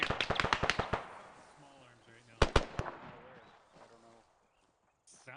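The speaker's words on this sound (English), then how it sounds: "I'm taking small arms fire out by south." Small arms gunfire in the Arma 3 military shooter: a rapid burst of sharp cracks, then a few more shots a moment later, loud and fairly close, with faint background talk between the volleys.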